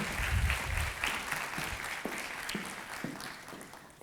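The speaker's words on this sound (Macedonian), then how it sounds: "еден аплауз ке ве молам" An audience applauds at a school awards ceremony, a dense patter of many hands clapping, strongest at the start and gradually thinning over a few seconds.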